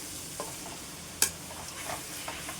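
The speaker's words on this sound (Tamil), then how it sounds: "ஆனியன் நல்லா வதங்கட்டும்." Onions sautéing in a pan, a soft continuous sizzle with occasional stirring scrapes and one sharp clink of a utensil, fairly quiet and close.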